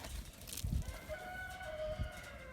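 Chickens at a backyard coop clucking and crowing while fed soldier fly larvae treats, with short low bursts and brief scattered calls, fairly close.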